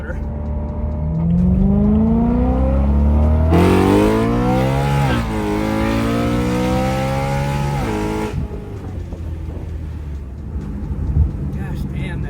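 A BMW E93 M3 fitted with an Alibaba valved exhaust accelerates hard through several gear pulls, its loud rising engine note sweeping up, dropping at shifts and climbing again before easing off near the end.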